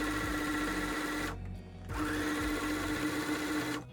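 A sewing machine stitches a leather coat hanger loop in two close bursts of fast, even whirring, separated by a brief pause.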